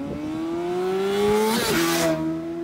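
A BMW sportbike with an Akrapovič titanium exhaust revs up in a rising harmonic whine, drops briefly at a gear change, then climbs again, loud and close.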